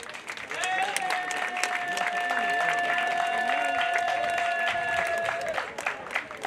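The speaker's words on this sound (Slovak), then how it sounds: "pre vás jeden veľký potlesk, ktorý možno všetci spolu naraz teraz dáme" An outdoor crowd applauds together at the awards ceremony of a bryndza dumpling cooking contest, with sustained, dense clapping that runs for several seconds while a sustained tone holds over it and faint voices mix in.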